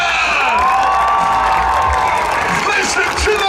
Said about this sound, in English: Listen to the ladies cheering!